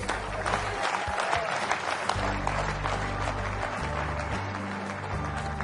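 Sustained applause from a leadership-lecture audience, dense clapping at moderate level that continues evenly for several seconds under a low steady hum.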